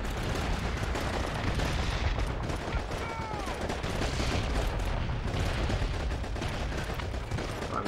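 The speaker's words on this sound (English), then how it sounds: "My machine gun." Machine gun fire in Call of Duty 2: Big Red One on PS2 rattles continuously in loud, dense bursts amid battle noise and explosions, with no break in the din.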